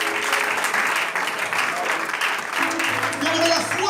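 A church congregation applauds during a French-language worship service, with steady, dense clapping that runs the whole time, mixed with voices and a faint tonal hum underneath.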